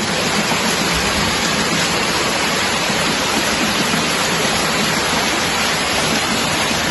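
Heavy rain pouring down steadily during a flood in Jaffna, a dense, loud, unbroken hiss of falling water with no pauses or voices.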